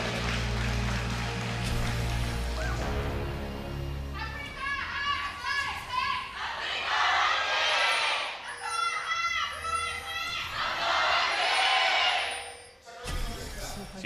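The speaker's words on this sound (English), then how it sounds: "Huge cheers from the crowd for Samsung." Loud arena crowd roaring and cheering for Samsung at a 2017 LCK Summer League of Legends match, sustained waves of noise swelling and falling, with a brief cut near the end.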